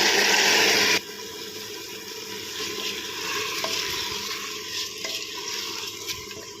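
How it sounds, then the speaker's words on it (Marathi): A loud, splashy hiss as soaked rice hits the hot pan for vegetable pulao, settling into a softer sizzle with scraping stirs. "बघा आपला तांदूळ टाकून घ्यायचा आहे"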